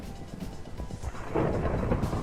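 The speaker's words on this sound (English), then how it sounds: "Yeah, definitely a thunderstorm." A Minecraft thunderstorm rolls in as a low, rumbling roll of thunder that swells louder partway through, with a steady rain-like wash underneath and no voices.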